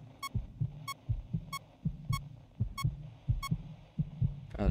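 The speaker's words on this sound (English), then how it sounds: "I don't like the heart beating." A heartbeat effect from the FNaF fangame Animator's Hell, with steady, evenly spaced low thumps about every two-thirds of a second and a short high beep sounding with each beat.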